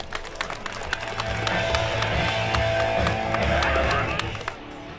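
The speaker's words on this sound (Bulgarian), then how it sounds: "Още веднъж горни аплодисменти за тези невероятни 7 момчета." Crowd at the Strongman Open Championship Bulgaria in Primorsko applauding the seven strongmen, sustained clapping with sharp individual claps standing out over a low droning background, and a voice heard faintly.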